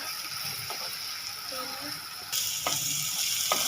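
Onions browning slowly in a pan over a low flame give a steady, soft sizzle and crackle throughout, with a brief louder burst partway through and a few faint clinks of stirring.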